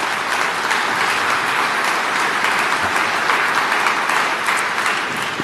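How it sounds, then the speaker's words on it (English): A large audience at a military retirement ceremony for an Army general bursts into loud, sustained applause that fills the hall, a thick, even wash of clapping with no voices over it. "How about a big round of applause for those guys?"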